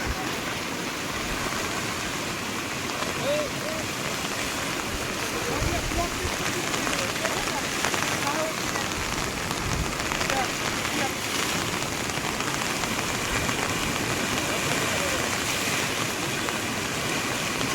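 Steady, loud rush of water roaring continuously, like a swollen river in spate, with no pauses throughout.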